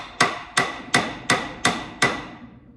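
Six sharp, evenly spaced hammer blows ring out up close, each with a brief metallic decay, while a sprocket is driven onto the engine of a 1926 John Deere Model D tractor under restoration.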